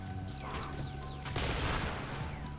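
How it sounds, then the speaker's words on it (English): A gunshot in the Survivalist video game lands as a sharp, faint crack with a brief noisy tail amid quiet in-game background tones. "I just put a bullet in that guy."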